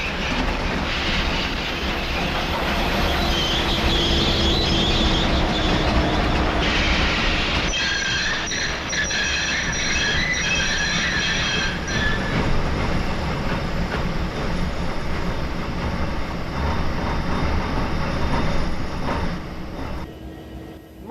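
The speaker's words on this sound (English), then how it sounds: "Stop the train! Stop the train! Please stop the train!" A steam train with damaged valve gear running steadily with a continuous rumble and clickety-clack, joined midway by high metallic wheel squeals, loud and close throughout.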